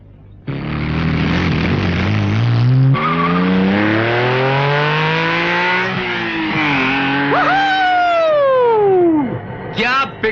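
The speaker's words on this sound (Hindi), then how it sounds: "क्या पिकअप है गाड़ी का!" A car roars off in a Hindi film scene, its engine revving and rising in pitch for several seconds with tyres squealing, then pulling away, loud and close, with music and voices mixed in.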